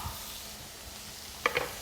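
A filet mignon steak sizzles in a pan with butter on top, a soft, steady frying hiss close by, broken near the end by a couple of sharp clinks, with no voices.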